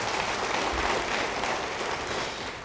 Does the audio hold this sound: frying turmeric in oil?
no